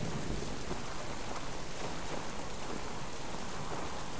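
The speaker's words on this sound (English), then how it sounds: "this rain just became a hazard." Steady, heavy rain pours down in a dense, unbroken hiss that stays loud and even throughout, with no voices.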